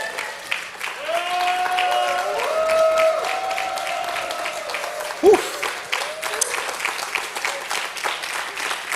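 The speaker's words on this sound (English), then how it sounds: "keep the applause going for all the other acts that were here today" Audience applause at an MLK Day community event, a broad wash of clapping and crowd noise running underneath music and tonal sounds, with a sharp louder hit midway.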